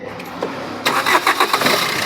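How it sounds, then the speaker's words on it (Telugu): A 2018 Maruti Brezza diesel engine cranks briefly, then catches and settles into a loud, rough, close idle with a few uneven pulses. "ఒకసారి బండి స్టార్ట్ చేస్తురా"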